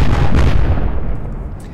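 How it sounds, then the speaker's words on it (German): A heavy warship cannon fires in the naval game Atlantic Fleet, a loud booming blast at the start that rumbles and fades over about two seconds, alone with no talk. "Wir werden die Kanone jetzt nochmal richtig ausrichten."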